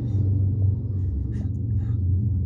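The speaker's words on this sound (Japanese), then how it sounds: "なんで動画撮り始めると俺はなんか音が鳴る乗り物が横を通るんだろうか" A noisy vehicle rolls past outside a parked car, giving a steady low rumble that holds through the whole clip at moderate loudness, with no talking.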